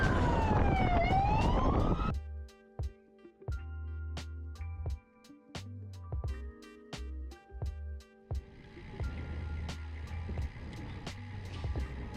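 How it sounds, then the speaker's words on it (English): Emergency vehicle sirens from passing fire trucks during a road race day sound out, with a rising and falling wail at first, then whooping and chirping tones over a steady low road rumble as the trucks go by. "Fire trucks, hopefully that's a good sign."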